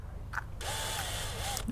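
Power drill boring into a phone's Gorilla Glass 5 screen, a harsh whirring grind that starts abruptly after a short lull and keeps going steadily, with small clicks at the start and end.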